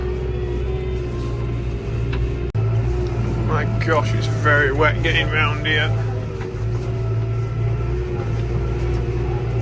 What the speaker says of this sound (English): We're in the tractor.